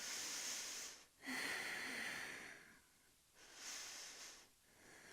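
Slow, deep breaths during a power yoga flow, soft and close, with long airy inhales and exhales repeating in a calm rhythm.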